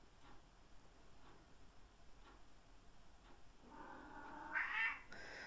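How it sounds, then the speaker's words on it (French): A house cat lets out a single drawn-out meow near the end, faint against a quiet room with soft ticking in the background and no speech. "mon chat nous accompagne"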